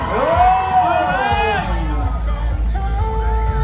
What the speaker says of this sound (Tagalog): Malakas na hiyawan!